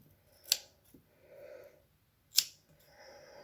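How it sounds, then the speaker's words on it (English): Scissors snip through hair cut straight across in a home haircut, two sharp crisp snips about two seconds apart with quieter rustling between, close and clear with no talking. "All right, we're going to cut it. Cut straight across."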